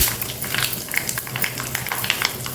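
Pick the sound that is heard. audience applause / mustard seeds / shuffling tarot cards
mustard seeds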